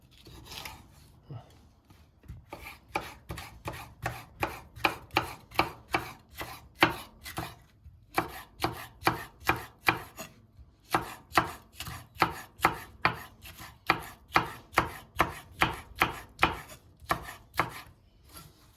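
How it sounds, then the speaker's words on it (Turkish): Rapid, steady knife chopping of peppers on a cutting board, dozens of crisp close strikes in bursts with a short pause between runs. "Biberlerimizi de güzelce doğrayalım."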